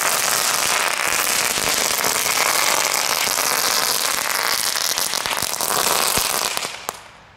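Leftover consumer fireworks set off outdoors give a dense, loud, continuous crackling barrage for several seconds, then die away abruptly near the end.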